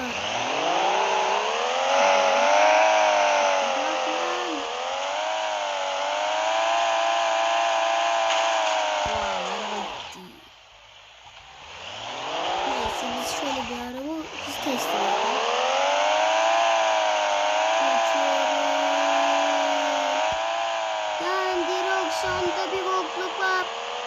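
A car engine in the Car Parking Multiplayer video game revs hard and holds at high pitch, rising and falling through gear changes, dropping briefly to near idle midway before climbing again.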